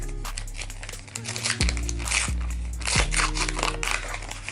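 Close, continuous crinkling and tearing of the plastic packaging around an iPhone 12 Pro Max screen protector, with a few sharp crackles standing out as the wrapper is pulled open.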